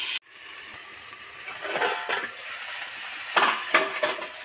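Vegetables and amaranth greens fry and get stirred in a pan, a steady sizzle with scraping and clinking of the spoon against the pan rising in a few short bursts.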